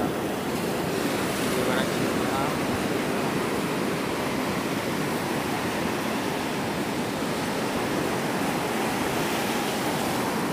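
Ocean surf breaks on the shore in a constant heavy roar, with wind buffeting the microphone and no clear separate wave crashes standing out.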